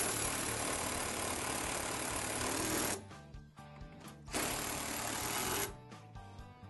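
Bolts are power-tightened on a basket mounting bracket of an EZGO TXT golf cart: two long, loud buzzing bursts from a driver, separated by a brief quiet pause.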